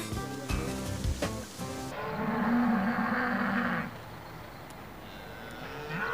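Cows on a dairy farm moo, one long low call standing out clearly after a burst of mixed noise, then fading into a quieter open-air background.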